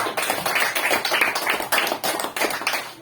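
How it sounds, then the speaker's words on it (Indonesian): A classroom of students claps for a group of classmates, a steady burst of many hands applauding close by for about three seconds, with no speech. "Tepuk tangan untuk kelompok 2."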